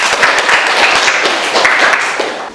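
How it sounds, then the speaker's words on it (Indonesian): A classroom group claps for a student team, a dense burst of many hands patting together in an even flurry that fades slightly toward the end. "Tepuk tangan untuk kelompok 3."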